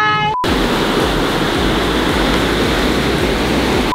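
Ocean waves break steadily on a beach in Bali, giving a loud, continuous wash of surf with low rolling pulses, after a brief opening tone.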